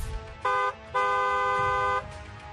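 A vehicle horn honks twice, close and loud: a short toot followed by a longer blast of about a second, over low background rumble.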